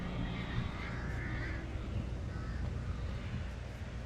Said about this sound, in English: I hear birds ready to attack.